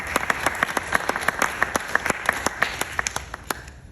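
Clapping at a business program launch event, with distinct sharp claps from a modest audience over a steady background wash, loud and close.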